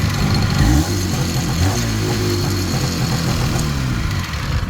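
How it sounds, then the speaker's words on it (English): A small two-stroke fire pump on a 2000 Mitsubishi MiniCab 4x4 fire truck runs steadily at close range, a loud, low, rapidly pulsing engine drone with no talking. "pump starts easily, just like that. And it's already running. Two-stroke."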